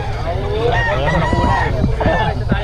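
Roosters crowing and hens clucking among fowl at a rainy outdoor market, several overlapping calls close by, with people talking in the background.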